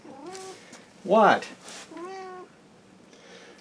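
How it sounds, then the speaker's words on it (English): A talking cat meows several times in short, rising calls, one loud and close in the middle, with a person's brief speech mixed in. "Now this cat likes to talk."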